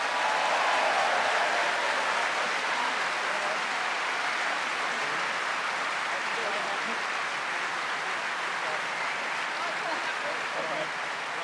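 Audience applause for the debaters at the close of a political debate, a dense, even roar of clapping that stays loud and unbroken throughout.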